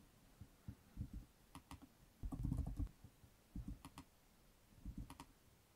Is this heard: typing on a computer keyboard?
yes